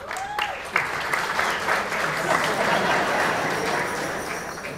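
An audience at a graduation ceremony claps steadily for several seconds, a dense and even wash of applause heard from within the crowd.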